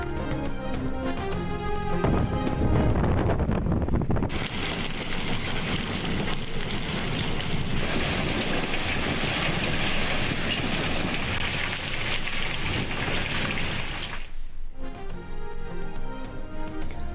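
Heavy rain with hail pours down in Lahore, a loud, dense, continuous hiss through most of the stretch, with music before and after.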